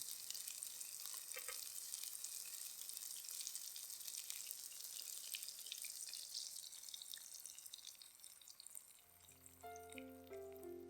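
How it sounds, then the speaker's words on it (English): Beaten eggs poured around tomato slices in a pan give a faint, even frying sizzle with crackles, and soft background music comes in near the end. "Now, slowly pour in the beaten eggs around the tomato slices."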